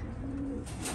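Racing pigeons coo softly in a loft, a brief low warbling call heard close and alone.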